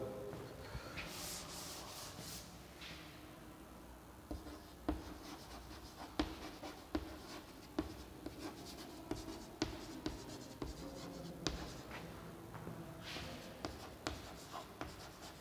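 Chalk or marker scratching across a board as a biochemistry lecture is written out, quiet and close, with rhythmic strokes and sharp little taps at the end of letters, steady through the whole stretch with short pauses.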